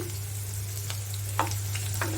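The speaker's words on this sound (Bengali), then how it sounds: "পেঁয়াজগুলো আমি ভালো করে ভেজে নেব" Onions frying in a pan give a soft, steady sizzle with a few brief crackles over a low constant hum.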